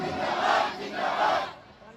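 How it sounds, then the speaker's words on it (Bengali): A crowd at an Islamic gathering chants the slogan Nara-e-Takbir in unison, two loud swelling shouts in steady rhythm with a brief drop between, the second call fading out at the end. "সবাই মিলে একই তালে দাও না স্লোগান, নারায়ে তাকবীর, নারায়ে তাকবীর"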